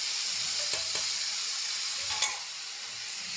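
Chopped tomatoes and green chillies sizzle loudly and continuously in a hot pan for a bhindi fry, with a few soft stirring clicks and no talking.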